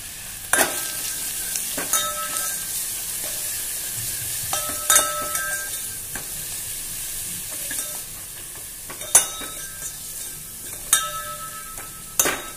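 Chili paste with garlic and curry leaves frying in a pan for a buttermilk kadhi, heard as a soft continuous sizzle broken by occasional sharp scrapes and clicks of a spoon stirring, close and fairly quiet.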